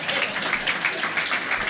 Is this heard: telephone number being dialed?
no